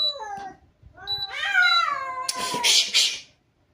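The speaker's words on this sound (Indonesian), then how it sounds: "Ada kucing berantem." Two cats fighting nearby, with drawn-out rising and falling yowls that build into loud, harsh hissing screeches, close and heard alone.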